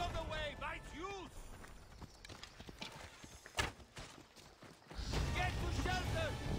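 A horse gallops in the video game Assassin's Creed Odyssey, quick hoofbeats thudding under game voices and effects, with a neigh early on and the clatter picking up again toward the end.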